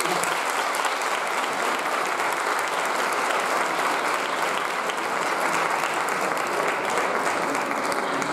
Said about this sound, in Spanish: si empezamos con un aplauso